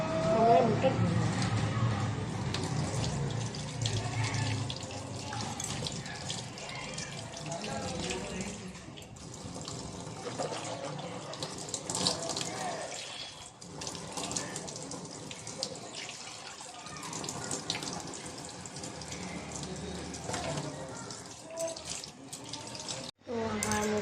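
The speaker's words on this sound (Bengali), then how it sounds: "আমার মুখটা ধুয়ে নেব।" A bathroom tap runs steadily while someone washes their face, with splashing and a rushing flow that varies in strength. Someone talks intermittently over the water.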